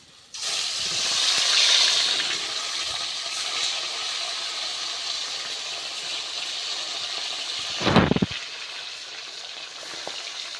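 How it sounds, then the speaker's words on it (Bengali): Bata fish slid into hot mustard oil set off a loud, steady hiss of frying that runs nearly the whole time, broken by a short clattering burst near the end before the sizzle resumes. "এবার বাটা মাছগুলো আমি আস্তে আস্তে করে ছেড়ে দেবো"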